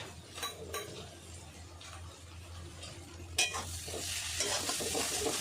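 Ginger garlic paste frying with reddened fried onions for a prawn and bottle gourd curry, stirred in a pan with a scraping spatula, steady sizzle swelling louder midway, with a few utensil clinks, no talk.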